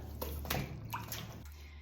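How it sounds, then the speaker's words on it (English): A papermaking mould is lowered into a vat of water, giving soft sloshing and gentle splashes over a steady low hum, quiet and close. "this is going to kind of submerge in the water."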